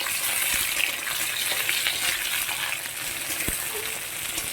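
Tomatoes hit a pan of frying potatoes, giving a steady close sizzle with occasional soft clicks and spatters throughout.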